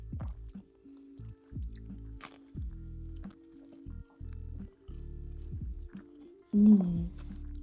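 Close, wet, soft chewing of Italian pasta at a dinner table, repeated in a slow, uneven rhythm with small squishy mouth sounds and a brief louder bite near the end.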